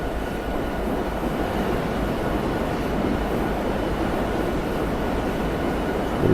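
A diesel locomotive in Train Simulator 2017 hauls a long coal train, giving a loud, steady rumbling roll of engine and wheels that holds constant throughout.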